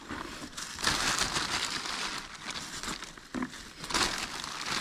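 A plastic bag crinkles and rustles continuously at close range while mushrooms such as porcini and chanterelles are picked in a Polissia forest, with louder crushing bursts and no speech.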